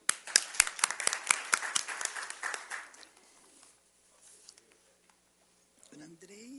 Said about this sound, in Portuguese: Doutor Custódio e doutor Eduardo, para quem também eu peço aplauso.